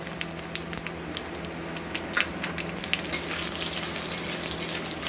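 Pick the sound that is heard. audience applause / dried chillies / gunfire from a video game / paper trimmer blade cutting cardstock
dried chillies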